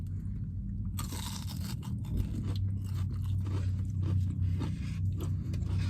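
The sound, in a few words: biting and chewing crunchy fries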